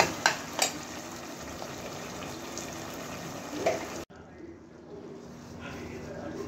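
Fish masala curry frying in a pan, a steady close sizzle with a few clinks of a utensil at the start; the frying cuts off abruptly near the end, leaving a quieter hiss.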